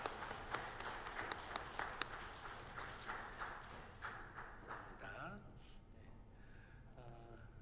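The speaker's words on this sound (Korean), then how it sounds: "우리 박수로 환영하시고" A church congregation claps in welcome during a Sunday service, a loose run of quick claps through the first few seconds that thins out, with a voice speaking faintly underneath and more clearly afterward.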